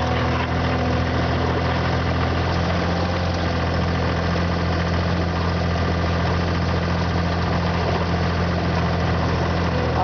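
Tractor engine running in freezing snowy weather, a steady droning idle with a low throb and mechanical vibration, continuous and close, with no talking.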